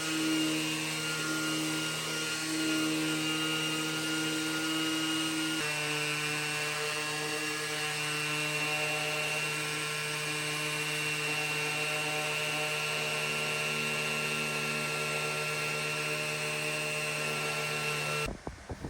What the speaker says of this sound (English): So I'm using a combination of my carbide scraper, my sander